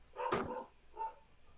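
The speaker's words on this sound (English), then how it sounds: "with a barking dog in the background somewhere" During a darts match, one distinct dog bark, followed a moment later by a softer, shorter bark, somewhat distant against a quiet background.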